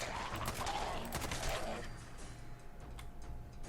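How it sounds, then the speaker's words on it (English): Double-barrel shotgun blasts from Fallout 4 play in dense, overlapping bursts against a busy game soundscape. The loudest cracks fall in the first two seconds, followed by a steady rumbling backdrop. "Double barrel shotgun."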